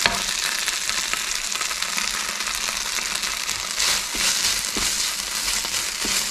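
Chicken filling fries with a steady loud sizzle in a pan while being stirred and scraped, with a few firmer knocks of the spoon against the pan near the end and no talking.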